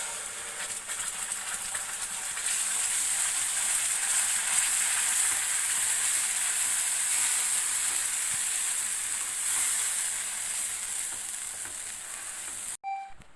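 Ground paste for butter chicken frying in a pan, a loud, steady sizzling hiss that swells and holds for several seconds before a sharp knock at the end, with no voices.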